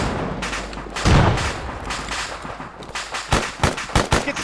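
Grenade blast in a military shooter game, a sharp heavy boom followed by a burst of rapid gunfire cracks, close and loud, with faint voices in the background.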